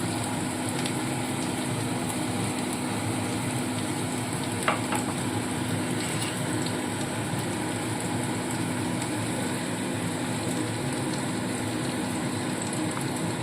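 Ginger garlic paste frying in a pan for a fish roe curry, a dense continuous sizzle held at an even level with a single faint clink partway through.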